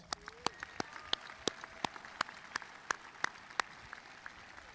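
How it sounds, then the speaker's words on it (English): A graduation audience claps for faculty and staff, a fairly sparse, steady series of separate hand claps about every third of a second, heard at a distance without voices. "Let's give them a round of applause."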